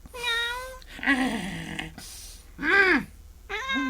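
A cat meows repeatedly, four or five short, wavering cries in quick succession, close and moderately loud.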